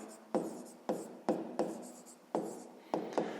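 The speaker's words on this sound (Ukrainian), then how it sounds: "Ну що ж, давайте декілька запишемо." Numbers being written by hand with a pen on paper, six quick scratchy strokes in an uneven rhythm, close and fairly quiet, with no voices.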